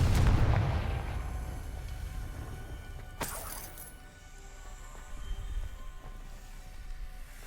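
Confringo spell blasts in the video game Hogwarts Legacy: a loud booming burst opens, fading into a rumbling tail, then a second sharp cracking blast hits mid-way and settles into lingering crackle and rumble.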